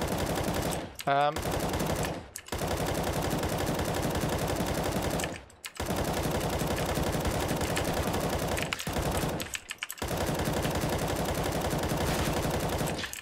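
Automatic rifle fire in the shooter game CS:GO during deathmatch practice, loud repeated bursts of rapid shots separated by short pauses, close and dominant.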